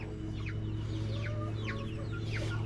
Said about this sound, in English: Now this hen right here, I got her last year